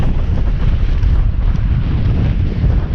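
Strong wind roars across exposed moorland in mist, buffeting the microphone in a constant, loud low rumble with no letup and no voices.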